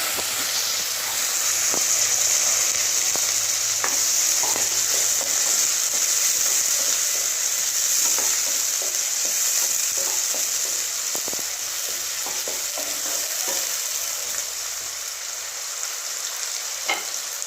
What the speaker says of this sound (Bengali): তেল খুব ভালোভাবে গরম হয়ে গেছে আমি প্রথমে আলুটা একটু ভেজে নেব